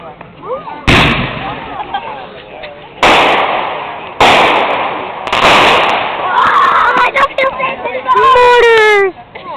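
Home fireworks mortars on the 4th of July, launching with loud thumps and bursting in several big booms, followed by crackling and whistling effects, with people talking and exclaiming between shots.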